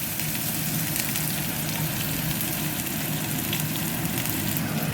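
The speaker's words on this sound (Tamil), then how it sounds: "சட்டி எண்ணெயை விட்டோன்னா சூடாகிட்டுது. கொஞ்சம் கடுகு, பெருஞ்சீரகம், அதோட வெங்காயத்தை போடுவோம்" Mustard seeds, fennel and onion fry in hot oil in a pan, producing a dense, continuous loud sizzle and crackle that holds steady for the whole stretch, with no talking.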